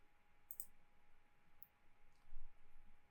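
A computer mouse gives a couple of faint, sharp clicks in a quiet room over a low background hum.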